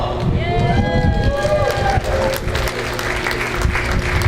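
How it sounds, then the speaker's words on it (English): Audience clapping at an anniversary gala continues loudly throughout, mixed with crowd noise and overlapping voices and tonal sounds. "Let's give them all a round of applause."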